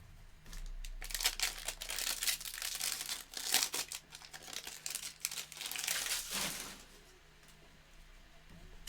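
A Topps Series 1 baseball card pack wrapper crinkles and crackles loudly and continuously up close for several seconds, then fades to quieter rustling.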